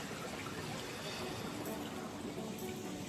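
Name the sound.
water flowing at a dam waterfall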